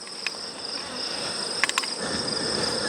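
Honey bees buzz steadily around a mating nuc hive entrance narrowed for defence against yellow jackets and hornets, a dense continuous drone with a few sharper passes close by, no talking.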